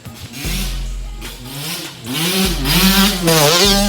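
A KTM SX125 two-stroke dirt bike engine, rebuilt after being wrecked, revs loudly nearby in repeated blips, rising to a high buzzing whine and dropping back to a rattly idle between throttle bursts.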